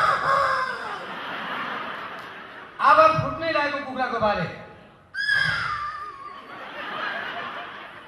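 A man vocally imitates Nepali birds, including a rooster's crow, producing two bursts of warbling, crowing calls amid chatter and laughter from an audience.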